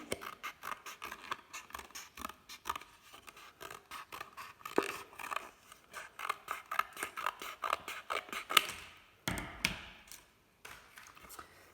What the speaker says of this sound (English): And then we get our scissors and follow the line.